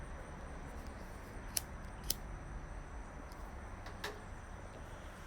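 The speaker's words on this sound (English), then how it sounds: "I'm going to go ahead and cut one of these in half" Scissors cut a sticker sheet in half for a paper-craft layout, giving a few quiet, sharp snips spaced apart over a soft, steady background hiss.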